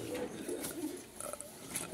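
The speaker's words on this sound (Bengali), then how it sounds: "দর্শক নিউ রানিং একটা নর কবুতর।" A male Modern Blondinette pigeon cooing close by, soft low throaty coos repeated a few times over a faint hiss of room noise, with no voices.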